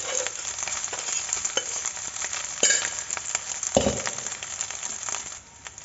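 Leftover rice is tipped into a hot pan with egg and stir-fried, a steady sizzle broken by spatula scrapes and clinks, with a thud near the middle.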